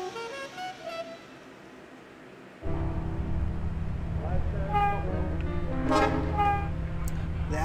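A London tube train in the video game Conduct Together rumbles steadily and loudly, starting abruptly partway through and continuing with rising whistle-like tones, after a stretch of game music.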